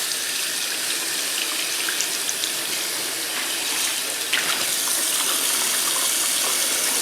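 Water runs steadily from a tap while Nintendo 64 Rumble Pak and Memory Pak parts are rinsed under it, a loud, continuous gushing hiss with faint knocks of plastic pieces.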